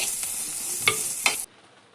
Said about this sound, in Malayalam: ഉള്ളി ഇട്ട് കൊടുക്കാം. എല്ലാം കൂടെ നന്നായിട്ടൊന്ന് വാട്ടിയെടുക്കാം.